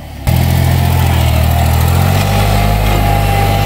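An engine at a pool-building site roars to life and holds a loud, steady throttle close by, its pitch shifting slightly partway through as the machine works.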